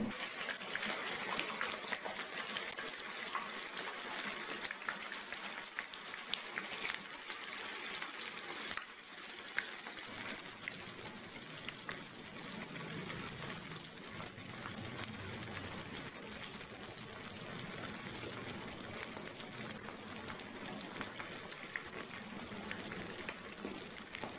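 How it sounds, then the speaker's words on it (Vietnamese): Stuffed tofu fries in a pan, a continuous soft sizzle and crackle with some bubbling, close and fairly quiet throughout with no talking. "Rồi xong rồi thì bây giờ đem đi chiên."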